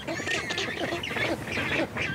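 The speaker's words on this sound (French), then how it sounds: "Une colonie de petits manchots, les gorfous sauteurs." A rockhopper penguin colony on a clifftop in the Falkland Islands, nesting alongside imperial cormorants, gives loud, overlapping braying calls close by, one harsh call after another with no pause.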